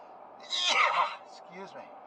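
A single sharp sneeze bursts out close and loud from a man inside a tractor cab, followed by a quieter breathy sound.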